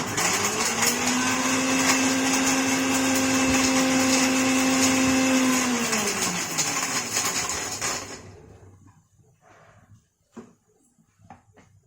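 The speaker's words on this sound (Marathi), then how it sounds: "मी खोबरं पावडर बारीक करून घेते" A mixer grinder pulverising dry coconut into fine powder, a loud whirring motor whine held steady for several seconds before winding down, followed by quiet with a few faint clicks and knocks.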